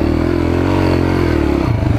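Small mini dirt bike engine running close by, a loud continuous buzzing drone that holds steady then drops pitch near the end, with some clatter and no talk.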